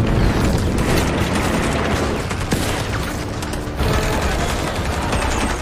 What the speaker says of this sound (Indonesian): Dengan senjata artileri, mereka berusaha menghancurkan tank-tank panzer Jerman, sehingga terjadi pertempuran yang begitu sengit.